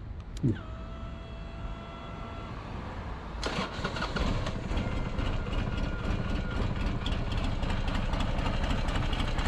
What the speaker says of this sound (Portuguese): Apesar de você escutar essa lenta bem lentinha, a moto é injetada